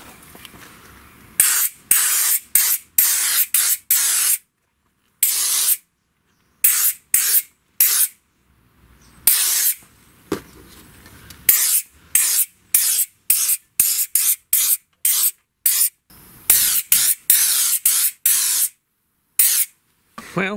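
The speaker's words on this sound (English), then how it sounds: "Let's get spraying." Aerosol wax oil rust treatment sprayed under a Subaru Impreza near the exhaust, heard as repeated loud hissing bursts of one to two seconds each, separated by short silent pauses, close up with no talking.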